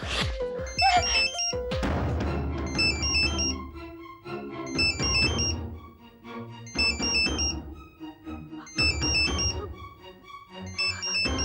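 A mobile phone hidden under a pillow plays a repeating melodic ringtone pattern in short bursts over rustling and background noise, with brief voice sounds in between.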